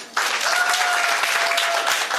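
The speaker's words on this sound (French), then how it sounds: "Applaudissez encore pour ce groupe." An audience breaks into brisk, dense applause for a group, starting abruptly and continuing at an even, lively level throughout.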